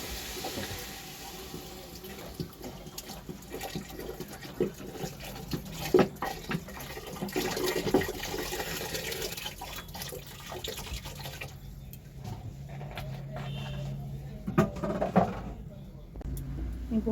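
Water is poured and splashes steadily into a cooking pot for a Poila Baisakh special recipe, with trickles and drips as someone talks over it.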